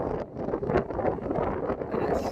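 Steady wind buffeting the microphone outdoors in freezing weather, a continuous low rumbling roar with gusty fluctuations and no voices.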